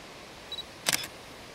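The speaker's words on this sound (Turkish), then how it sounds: "Ve deklanşörümüze basıyoruz." A camera fires its shutter once at a waterfall while shooting a long exposure with an ND filter. A faint electronic beep comes first, then a sharp, close mechanical click in an otherwise quiet setting.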